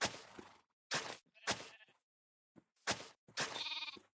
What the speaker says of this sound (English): look at all those sheepies